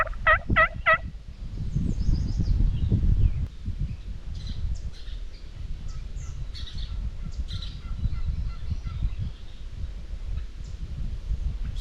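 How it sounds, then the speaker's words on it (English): A hen wild turkey calls back in the open Kansas countryside with a short burst of sharp yelps at the start, then fainter scattered calls over steady breezy field noise. "I got that hen, she's talking back at me."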